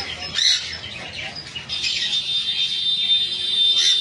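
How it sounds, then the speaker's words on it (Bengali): Sun conures and lovebirds in a bird shop, giving shrill, piercing chirps and squawks that sound close and continuous, layered over a steady high whistle-like call. "সমস্ত রকমের সানকনুর আছে।"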